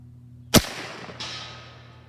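An AirForce Texan .308 air rifle fires a single sharp, loud shot at a 145-yard target, followed a little over half a second later by a fainter crack that trails off, with no talking.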